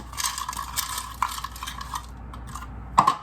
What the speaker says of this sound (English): the last thing I'm going to add is 1 cup of frozen peas.